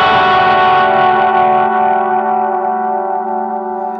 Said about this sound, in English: listen to that right there, how it breaks up. It almost seems like it's getting digital.